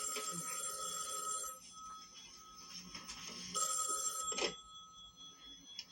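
A telephone bell rings in an office setting from early-1970s television, a loud metallic trill in repeated bursts close by.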